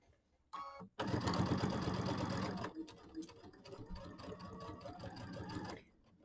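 A sewing machine stitches slowly across pinned layers of a quilt, a steady close mechanical whir running for several seconds after a brief start, then easing into a quieter, lighter hum before stopping.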